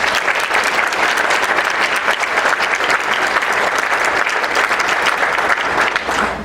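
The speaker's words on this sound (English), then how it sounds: "Please give them a round of applause" Sustained applause from a large crowd at a Legion of Honour ceremony, dense and steady for several seconds, loud and even without pause.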